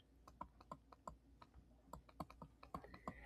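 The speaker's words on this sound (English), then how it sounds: "you could type this in Desmos" Quick, irregular clicks of someone typing on a computer keyboard into the Desmos graphing calculator, faint and close, with no talking.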